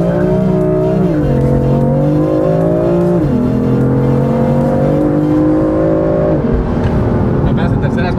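A BMW M4 accelerates hard with its wheels spinning, the loud engine note climbing and then dropping at each of several gear changes over steady tire and road roar.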